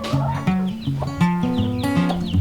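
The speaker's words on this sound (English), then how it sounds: "That is a blue copper bronze rooster, a black copper bronze hen, and then 2 lavender Orpington hens" A blue copper bronze rooster, a black copper bronze hen and two lavender Orpington hens cluck close by in a quick, overlapping series of short calls, loud and without talk.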